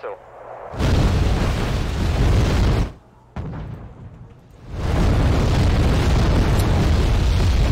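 Rocket fire in the war game Wargame: Red Dragon sets off heavy, roaring explosions, two long rumbling bursts split by a brief lull, dense and loud throughout.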